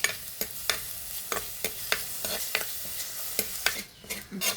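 Crushed shallots and curry leaves frying in hot oil, a low continuous sizzle punctuated by regular sharp spatula strikes against the pan, about two per second, close and without talk.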